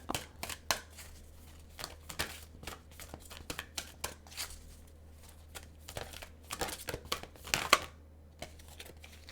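Oversized oracle card deck being shuffled by hand, giving irregular bursts of papery riffles and slaps with short pauses between, close and fairly quiet over a low steady hum.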